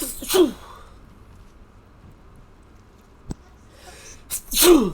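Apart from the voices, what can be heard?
sneeze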